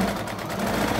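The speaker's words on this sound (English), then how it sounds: "I'm going to go ahead and put those extra stitches right there over the elastic again" Sewing machine running steadily as it stitches extra lines over the elastic on an arched fabric face mask, a continuous close mechanical whir with no talking.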